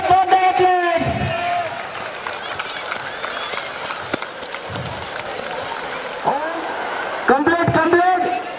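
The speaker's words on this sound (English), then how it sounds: "All of you clap for the athletes." Spectators at a school's annual sports day, Carmel School in Rourkela, clap steadily for athletes during a race; the dense applause is mid-distance, with an announcer's voice over the start and end.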